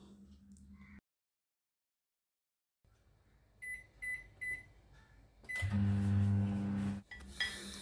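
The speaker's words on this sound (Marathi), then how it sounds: "आता हे भांडे मायक्रोवेव्हमध्ये 3 मिनिटासाठी ठेवायचे व" A few short electronic beeps from a microwave oven's keypad, then the oven starts with a steady, fairly loud hum and rattle that runs for about a second and a half. The bowl inside holds a jackfruit and onion curry.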